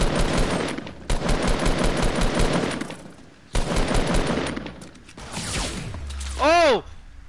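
Rapid automatic gunfire in the video game Fortnite comes in several long, loud bursts separated by short pauses, followed by a mechanical reload-like sound and a rising-falling electronic tone near the end.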